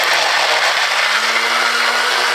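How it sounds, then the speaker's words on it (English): A blender blends onion, garlic and ginger for kimchi paste, giving a loud steady whir whose motor pitch climbs slightly over a couple of seconds, with no talking. "In your blender, put some of the onion, the garlic, and the ginger."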